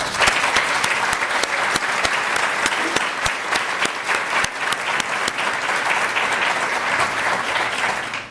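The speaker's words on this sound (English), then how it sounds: "I want to give them a hand of applause." Sustained applause from an audience at a State Department foreign policy gathering, a full, loud roar of clapping with crisp individual claps popping through, continuous throughout without talk.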